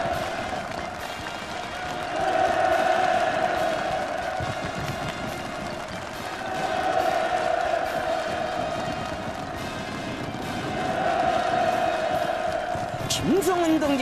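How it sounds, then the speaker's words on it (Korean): A large outdoor crowd at a housing inauguration ceremony in the Hwasong district roars hurrahs in sustained swelling waves, with celebratory fireworks mixed in, all under a narrator's voice. "우렁찬 만세 함성과 환희의 축포가 또다시 터져오르고"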